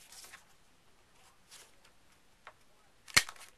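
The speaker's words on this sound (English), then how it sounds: "If you're just rounding the corners, fold it in half and round them like that." A paper corner-rounding punch clicks once sharply near the end, a single crisp snap, after a few faint rustles of folded paper while crafting a mini-album.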